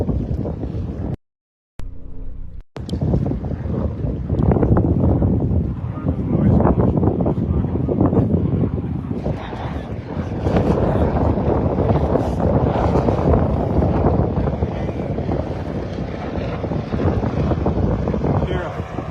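A motorboat engine drones steadily on open water off Naples at sunset, the boat spinning around, with wind buffeting the microphone and a brief dropout early on.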